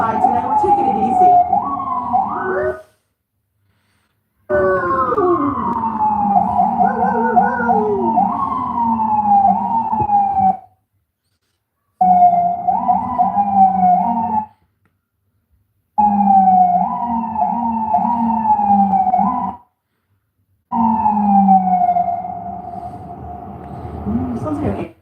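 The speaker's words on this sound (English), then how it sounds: "Sounds like an ambulance." A loud ambulance siren wails nearby on Manhattan's Upper West Side in rising and falling sweeps, cutting out in several short gaps, with street noise and voices underneath.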